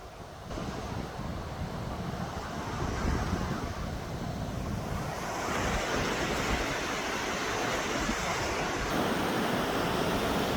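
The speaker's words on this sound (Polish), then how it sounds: "I to już trzeci dzień takie ogromne fale." Huge sea waves surge and roar steadily with wind buffeting the microphone, a continuous wash of surf that grows slightly louder partway through.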